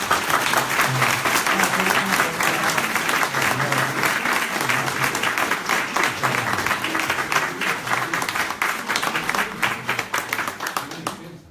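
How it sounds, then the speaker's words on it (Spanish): Audience at a book presentation giving sustained applause, a dense steady wash of many hands clapping that tapers off toward the end, with a voice briefly heard over it. "Un aplauso."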